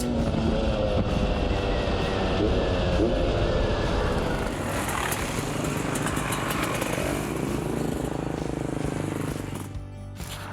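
A Beta 300 RR two-stroke dirt bike roars loudly and continuously close by while riding in the Black Hills, the engine note rising and falling before easing off at the end.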